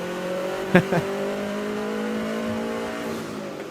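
A car engine revs hard and steadily on a dyno with a rising, sustained whine, punctuated by two sharp pops near the start.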